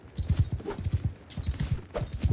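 A horse gallops in Mount & Blade II: Bannerlord, its hooves pounding in a quick, steady rhythm of close, heavy beats, with a brief whinny-like sound partway through.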